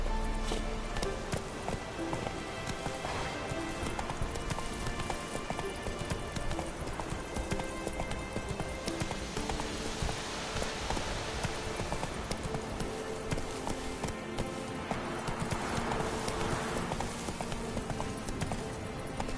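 Roach, a horse in The Witcher 3, gallops with steady rapid clip-clop hoofbeats throughout, close and continuous over a game ambience bed, with a faint whinny possible.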